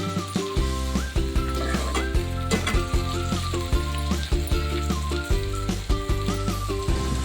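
Onion and tomato sizzle steadily in a pan while sautéing for a brinjal palya, a continuous frying hiss that sits beneath prominent background music for the whole stretch.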